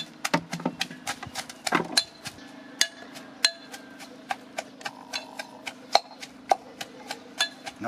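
Onion, hot pepper and garlic with their skins pounded by hand to crush them for a homemade garden insect spray, a steady series of sharp, close knocks at an even rhythm, alone with no talk.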